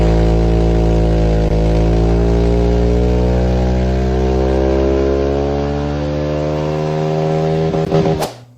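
A stock Honda Vario 150 scooter engine revs loudly on a dyno, its pitch climbing smoothly and steadily to a high whine before abruptly cutting off at the end.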